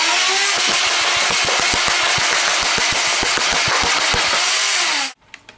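A modified, minimized Nerf Rapidstrike built as a Halo SMG replica fires darts in a rapid automatic burst, its motors whining loudly under a steady stream of sharp clicks for about five seconds before cutting off abruptly.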